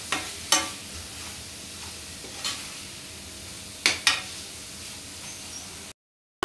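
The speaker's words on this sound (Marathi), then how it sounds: "मसाले व्यवस्थित परतून घ्यायचे आहेत" Coriander and red chili powder masala sautéing in a pan for egg curry, heard as a faint steady sizzle punctuated by a few sharp scrapes and clicks of a spoon, then an abrupt cut to silence; no talk.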